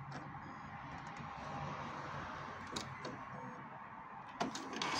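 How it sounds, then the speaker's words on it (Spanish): An Epson printer powers on, giving a low mechanical whir and hum that builds gradually, punctuated by a couple of sharp clicks and a clunk near the end, heard up close without speech. "Vamos a apretar y prende."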